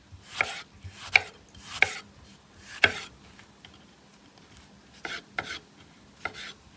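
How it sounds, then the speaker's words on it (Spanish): Knife chops a tomato into small cubes on a cutting board in a home kitchen, producing sharp, close knocks in irregular bursts with short pauses between them, with no one talking. "Ahora voy a picar el tomate."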